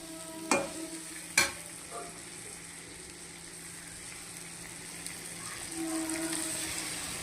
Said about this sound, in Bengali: আজকে রান্না হচ্ছে লোটে মাছ